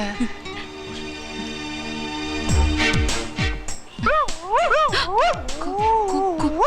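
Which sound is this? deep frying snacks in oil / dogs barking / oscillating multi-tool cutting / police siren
dogs barking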